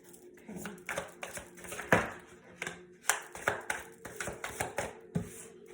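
Tarot cards being shuffled close up, a run of crisp papery riffles and slaps in uneven bursts, with soft handling noise between them and no talking.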